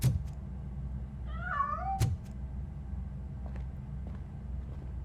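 A cat meows in RoboCop: Rogue City, one clear rising-and-falling meow between sharp clicks, set over a low steady ambient rumble.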